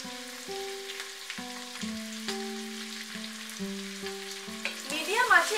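Three large chopped onions fry over medium heat in a pan for Bangladeshi chicken polao, a soft continuous sizzle under a plainly stepping melody of background music.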